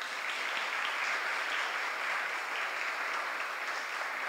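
A conference audience at a journalism and culture event applauds to welcome a guest to the stage, a continuous, even patter of many hands at moderate volume with no talking.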